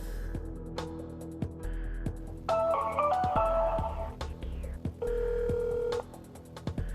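A telephone rings unanswered several times, with repeated tones and pauses between them, then a short series of beeping signal tones as the call rolls over to voicemail.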